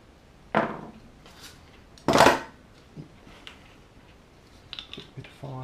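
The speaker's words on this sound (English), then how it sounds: "Cutters here, we'll just take the excess bits off to make the sanding quicker." Hand cutters snip excess plastic from an O gauge 7mm model kit part, two crisp close clicks a second and a half apart followed by softer small taps and handling sounds.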